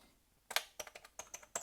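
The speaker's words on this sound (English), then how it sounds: "Keyboard doesn't feel too bad. It's a bit squeaky." Keys on a squeaky Parus VI-201 computer keyboard clack in a short, uneven run of close, crisp presses after a quiet moment, about eight taps in under two seconds.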